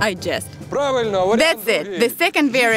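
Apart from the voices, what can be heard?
No distinct noise like a dog, phone or traffic.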